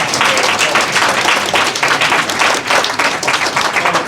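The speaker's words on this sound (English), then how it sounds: "Give them a round of applause." An audience at a Moorish recognition certificate ceremony bursts into loud, dense applause, many hands clapping together in a sustained roar that holds steady for several seconds.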